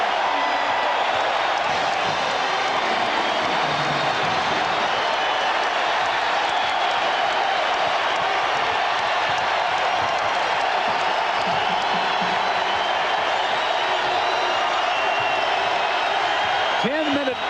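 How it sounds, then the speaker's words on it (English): Arena crowd at a 2001 Iowa State Cyclones home basketball game against Missouri cheers its team's lead, a steady dense roar of voices and scattered whoops beneath ongoing commentary. "Iowa State cheering their 11-point lead"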